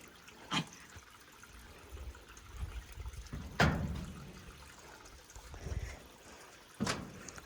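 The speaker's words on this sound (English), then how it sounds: "A trickling brook." A small trickling brook at a historic mill park makes a soft, continuous watery burble outdoors, with a few brief splashy knocks and clicks standing out over the faint flow.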